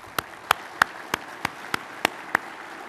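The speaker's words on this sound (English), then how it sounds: "How about a round of applause for Cindy?" At an evening charity reception, about nine single claps land at a slow, even beat, each crisp and separate, with only a quiet background between them.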